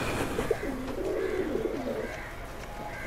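Baghdad Homer pigeons coo close by in soft, repeated rolling calls over a quiet farm background.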